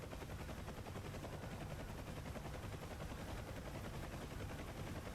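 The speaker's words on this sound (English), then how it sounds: "I'm assuming that's you opening fire?" The door gun of a UH-1H helicopter in DCS fires in a dense, continuous rattling burst, steady and fairly faint, blended with rotor noise.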